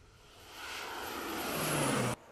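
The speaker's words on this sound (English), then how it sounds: "And as the planes buzz the field, Wayne Stoltenberg is watching." Crop-spraying airplanes buzz low over a farm field with a rising engine drone that swells louder as they pass close overhead, then cuts off abruptly.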